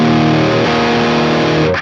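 A heavily distorted electric guitar tone from a Line 6 Helix with the amp gain pushed high, one sustained saturated chord ringing loud and dense before cutting off abruptly at the end.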